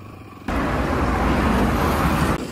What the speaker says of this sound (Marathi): आपण गाडी चालवत आहे.